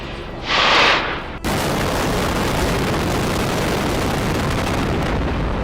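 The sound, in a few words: explosives detonating in building demolition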